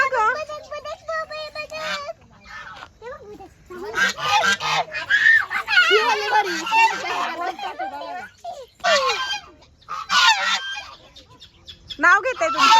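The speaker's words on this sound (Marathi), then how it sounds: "चल आपण जाऊ बदक बघायला" Ducks quack loudly and repeatedly at close range, in clustered runs of honking calls, while an adult and someone talk nearby.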